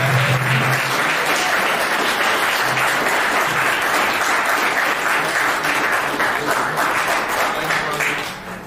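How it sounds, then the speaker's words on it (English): A large audience gives a sustained, loud round of applause at a university event, steady throughout before tapering off at the end. "Tom McMillan and Ed Bouchette, let's give them a round of applause"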